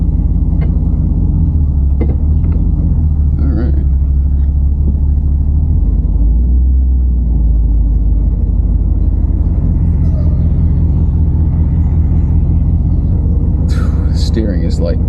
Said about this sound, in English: this is gonna be my first kind of real drive in this car